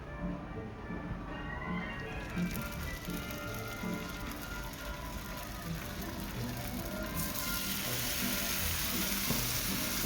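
Bacon sizzling on a grill, a constant crackling, spitting fry noise that fills the whole stretch at steady, moderate loudness, with faint voices underneath.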